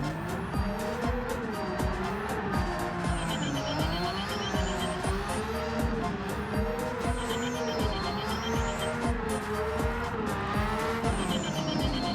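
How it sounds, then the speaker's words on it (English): Nissan R32 GT-R drifting in Gran Turismo 7 with a basic drift tune: a loud, steady engine whose pitch rises and falls with throttle, under continuous wavering tire squeal for the whole clip. "did a quick test with very basic drift tuning to make sure it slides decent enough"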